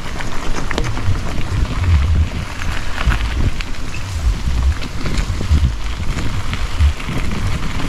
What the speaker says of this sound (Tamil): நல்லா மழை அடிக்குது